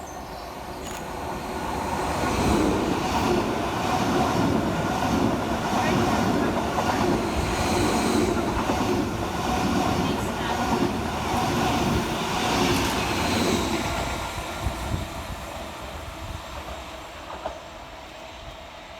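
A London Overground train at Rectory Road station, a two-platform stop, rumbles steadily and loudly with rail clatter and a broad mechanical roar that swells and holds before easing off near the end.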